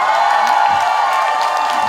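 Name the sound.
audience applauding and cheering at a festival concert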